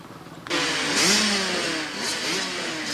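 A pack of 125cc motocross bikes at a 1993 ISDE qualifier roars to life after a faint idle, engines revving hard and overlapping in a loud, sustained, rising and falling snarl close by.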